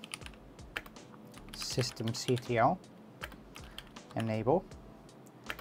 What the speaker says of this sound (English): So for that, you're going to type in sudo systemctl